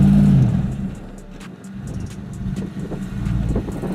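A Hummer H2's engine growls and revs as the SUV strains to climb an off-road obstacle, a loud, throaty roar that dips and swells again under rattling clunks.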